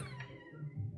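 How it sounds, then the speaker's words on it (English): A forsaken cat in the video game Pillars of Eternity II: Deadfire gives one drawn-out, plaintive meow, close and clear, with no talking over it. "Oh, there's a forsaken cat in here, locked away."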